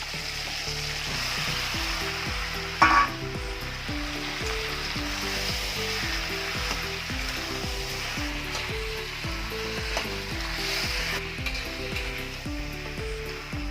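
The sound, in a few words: taro pieces frying with hilsa fish heads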